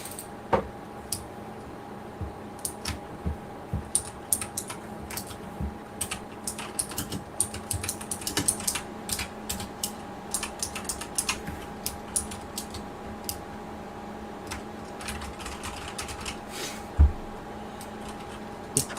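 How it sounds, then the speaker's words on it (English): A loud computer keyboard clatters with irregular runs of sharp key clicks and occasional heavier strikes, close up and continuous for about twenty seconds over a faint background hum. "My keyboard is loud."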